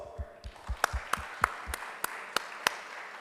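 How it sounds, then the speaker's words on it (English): Audience applause at a conference workshop session, heard as a handful of distinct sharp claps spaced across the moment rather than a full ovation, fairly faint over low room noise. "Can we give a round of applause?"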